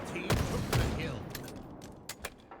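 Rapid gunfire in a Halo esports match as a player shoots at incoming grenades, a burst of sharp shots followed by scattered cracks, with a caster talking over the action.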